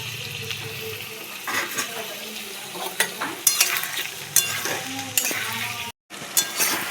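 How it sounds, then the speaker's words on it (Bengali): Marinated chicken hitting lightly fried onions in a hot pan, a sizzle broken by repeated stirring scrapes and clinks of a spoon, with a brief gap near the end. "এবার দিয়ে দেবো ম্যারিনেট করা চিকেন"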